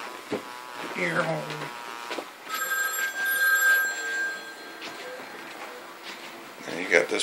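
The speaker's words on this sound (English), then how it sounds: "And you got this phone ringing." A rotary telephone on a Panasonic 308 PBX phone system rings with a steady metallic bell, starting partway through and sustaining for a couple of seconds, while someone talks nearby before and after.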